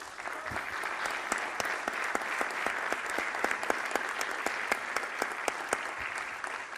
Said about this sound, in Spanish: un gran aplauso para todos ellos.